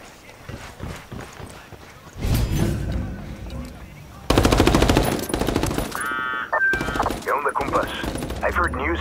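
Rapid bursts of video game machine gun fire crackle through a busy mix of hoofbeat-like clatter and game effects, with a voice speaking over the action.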